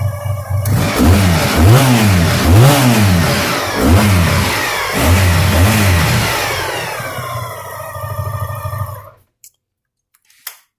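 A 1986 Honda VF1000R V4 motorcycle engine revs hard several times in a row, each blip rising and falling in pitch with a loud, close, throaty roar, then settling toward idle before cutting off into near silence.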